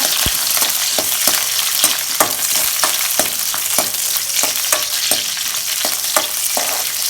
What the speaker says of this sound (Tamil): பச்சை மிளகாய் நாலு கீரி வச்சுருக்கேன் அதையும் போட்டுக்கலாம் மீன் போட்டு நல்லா வதக்கிடுவோங்க